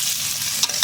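Masala being fried and stirred with snails in a pan for a spicy Bengali snail curry (gerir jhal), a steady close sizzle with scraping stir strokes, two sharper spatula clicks near the end.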